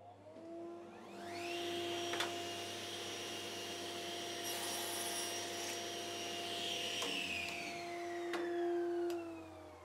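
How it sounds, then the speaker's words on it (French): A motor-driven saw makes a partial kerf in a piece of wood: a steady, close mechanical whine that rises in pitch as it spins up, holds a constant drone under the cut, then dips slightly near the end. "on va mettre un trait de scie pas complet sur un bout de bois"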